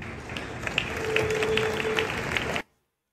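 A small group at a news event applauds in a light, thin patter of handclaps lasting a couple of seconds before cutting off abruptly, faint background murmur underneath.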